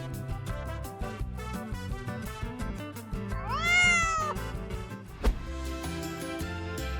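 A kitten gives a single rising and falling meow over busy music, clear and close for about a second before the music carries on alone.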